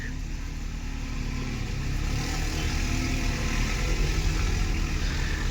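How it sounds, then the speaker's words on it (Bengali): Several quad bikes (ATVs) approach at an adventure park in Mauritius, their mid-pitched engines forming a steady, continuous drone that swells slightly as they draw nearer. "এই যে কোয়াড বাইকগুলো আসছে দেখতে পাচ্ছ, মানে কোয়াড বাইক আসছে প্রচুর।"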